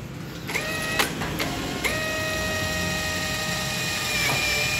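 A power driver sends a screw through an aluminium Xingfa 55-series door frame and leaf to fit a Kinlong hinge: a few sharp clicks, then a steady high motor whine held for several seconds, close and alone.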